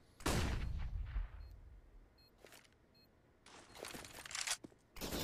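Counter-Strike gun spray fire rings out in short, sharp clusters of shots, a loud opening burst followed by quieter gaps and two more rattling volleys, with no talking heard.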